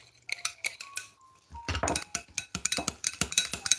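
Metal utensils clink and scrape against a bowl while a family-recipe seasoning is mixed for grilling, with a quiet stretch followed by a denser burst of rapid, close clattering strokes.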